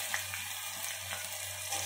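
Chopped onion sizzles in oil over tempered whole spices, a soft, steady frying hiss with a few faint pops, close by and with no voices.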